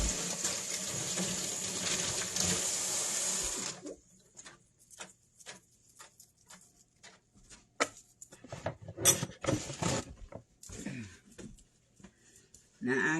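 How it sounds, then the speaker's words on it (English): Tap water runs steadily into a sink as hands are rinsed in a home kitchen, a loud continuous wash for the first few seconds that then stops, followed by scattered clatter and brief talk. "So let me rinse off my hands."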